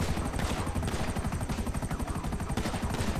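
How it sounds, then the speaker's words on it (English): Pistol fire in Grand Theft Auto comes as a dense, steady stream of rapid shots and echoing cracks, loud and continuous throughout with no pause. "I think it's shooting off pistols and shit."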